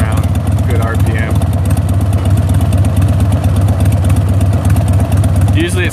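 A 1999 Harley Davidson Sportster 1200 engine idles high while warming up, a loud, close, steady rhythmic throb with someone talking over it.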